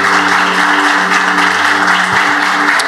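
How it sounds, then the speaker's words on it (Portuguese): A church congregation clapping during a worship service, a continuous loud wash of applause with a steady sustained musical tone underneath. "Você pode aplaudir a Jesus"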